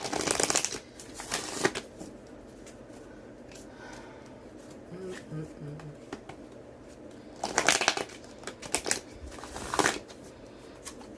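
Oracle cards shuffled by hand up close in several quick riffling bursts, with quieter soft rubbing and sliding between them and a light voice murmuring in the background.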